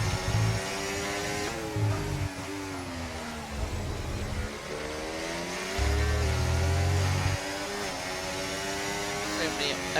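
Ferrari race car engine in a racing video game at the Spain circuit, a droning whine with shifting pitch and gear changes, running steadily under commentary talk throughout.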